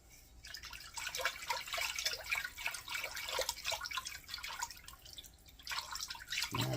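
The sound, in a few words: regular milk being poured into cooking pot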